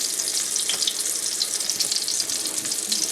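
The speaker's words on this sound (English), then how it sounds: "we're at the stove, and I've been browning these patties" Salisbury steak patties brown in a pan on the stove, giving a continuous close sizzle and crackle with no voices.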